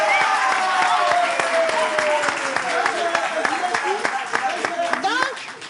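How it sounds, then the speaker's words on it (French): Audience applause welcoming artists onto a stage show, brisk clapping with sharp individual claps under a loud voice talking throughout, tapering slightly near the end. "applaudissez pour les accueillir"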